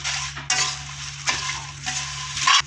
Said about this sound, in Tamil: எல்லாமே சேர்த்து வறுத்துடலாம்